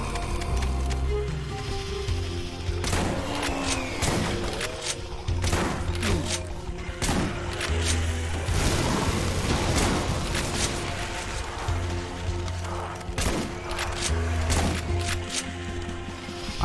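Rapid, loud gunfire blasts away at enemies in the video game Doom 2 with the Project Brutality mod, with dense bursts of shots and impacts continuing throughout against game ambience.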